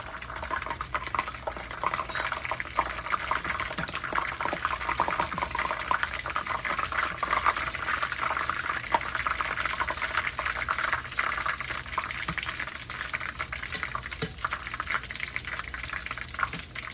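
Bagel dough frying in a pan of hot oil, a steady close sizzle and bubbling that runs evenly throughout without any talking.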